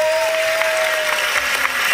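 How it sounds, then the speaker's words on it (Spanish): Loud, dense applause from a crowd at a quinceañera celebration, steady throughout with a faint sustained tone in the background. "esos aplausos fuertes para la quinceañera"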